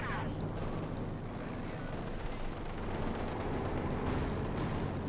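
Light machine guns trade fire in a Company of Heroes 2 World War II battle, with dense, sustained rattling gunfire and distant booms layered into a continuous roar of combat.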